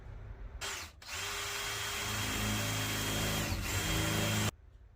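A power drill boring pilot holes through the metal wall of a Sprinter van, a sharp start, a brief stop, then a sustained high whining grind that cuts off abruptly, loud and close with no speech.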